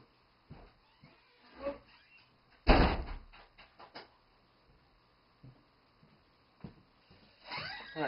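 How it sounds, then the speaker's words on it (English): A cat thumps and bangs against an indoor door, with one loud slam-like knock and several softer scattered bumps and rattles, and a faint meow-like sound. "There's a cat trying to break the door down."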